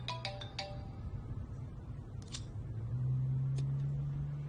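A phone ringtone chimes several quick electronic notes at the start, then fainter beeps follow over a low steady hum in an office setting, with no talking.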